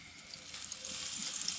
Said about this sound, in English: Got that sizzle going already.